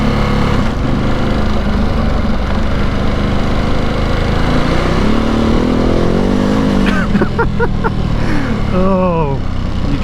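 A Ducati Multistrada Enduro motorcycle engine drones steadily and up close while riding over gravel dirt roads, the note rising and falling with a brief rev, and a rider's voice talks over it.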